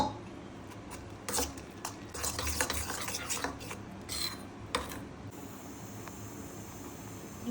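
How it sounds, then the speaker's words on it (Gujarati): A spoon stirs besan batter for pudla, made from gram flour mixed with water, in a bowl. It gives soft, repeated scraping and rasping strokes that are faint but steady, with occasional sharper clinks. "અને આપણે હવે આ મિશ્રણને હલાવી દઈશું।"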